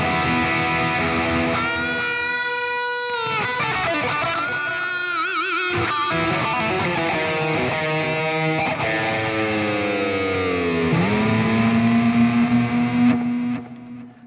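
Electric guitar through a Veloton multi-effects unit, a continuous distorted passage of strummed chords and single-note runs with bends, loud and close, ending in a ringing bent note with no talk.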